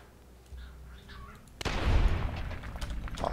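Lee Enfield No. 4 rifle in a Fallout New Vegas mod fires a loud shot with a sharp crack, followed by a booming rumbling tail and scattered echoing reports over faint background.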